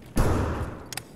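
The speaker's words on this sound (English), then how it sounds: "That's a shotgun." A shotgun blast in the game Escape from Tarkov, a single heavy booming thud that decays over half a second, followed by a faint brief clack, with no talk over it.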